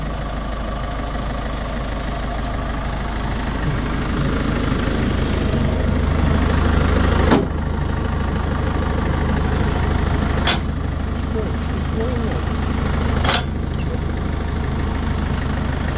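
A Daedong tractor engine idles with a steady low rumble, and a few sharp clicks break in now and then.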